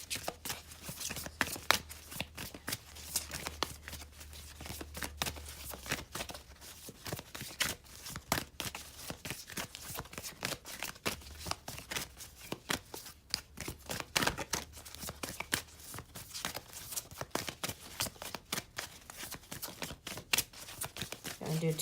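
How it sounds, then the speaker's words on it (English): Soft, rapid riffling and flicking of cards in repeated bursts, quiet and close, with faint low hum in the background. "Gonna do two more shuffles here."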